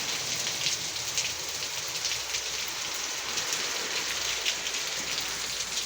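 Steady rain falling and pattering on surfaces, a continuous even hiss with scattered drips, no voices.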